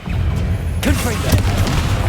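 Casting the Confringo spell in Hogwarts Legacy sets off a booming fiery blast with crackling debris, heard just after a voice speaks the spell name.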